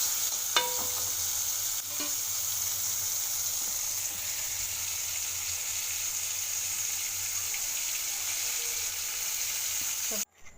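Tomatoes and green chillies frying in a pan for a curry: a steady, even sizzle runs close and constant for about ten seconds, with a couple of faint clinks near the start and a bump at the end.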